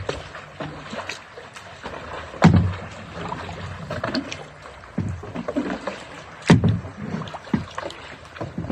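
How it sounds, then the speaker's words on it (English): Kayak paddle strokes dipping and pulling through water near a rocky shore, irregular splashy thumps with two louder hits, mixed with wind buffeting the microphone. "I'm trying to kayak backwards,"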